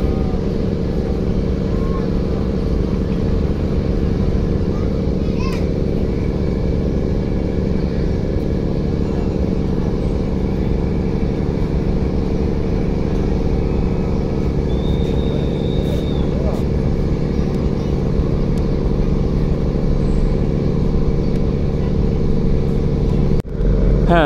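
The passenger launch Kuakata 2 pulls in toward the ghat at Barishal before dawn. A loud, steady low engine rumble and hum drones without a break, with faint clanks here and there.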